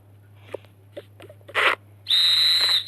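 A few soft clicks and rustles, a short burst of noise, then a shrill, steady whistle blast held for nearly a second, close and loud.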